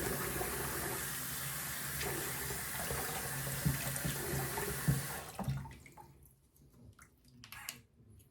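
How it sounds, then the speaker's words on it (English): Tap water running into a bathroom sink while a face is wetted during a skincare routine: a steady, close splashing rush that stops abruptly, leaving a few faint drips and small splashes. "right now I am wetting my face to get ready to apply the facial wash"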